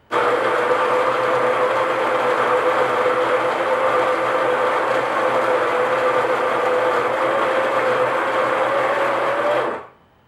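Baratza Virtuoso coffee grinder grinding espresso beans, a loud steady whirring motor drone running unbroken for about ten seconds before cutting off abruptly.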